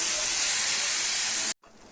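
Radish chutney is stir-fried in a hot pan, giving a loud, steady sizzling hiss for about a second and a half before it cuts off sharply, leaving a quieter hiss.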